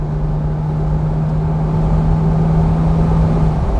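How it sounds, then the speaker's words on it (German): A 1969 Mercedes 280 SL Pagode in original horizon blue, its engine running steadily while driving, a close, constant hum with a low droning note and road rumble throughout, no voices. "Maschine klingt gut."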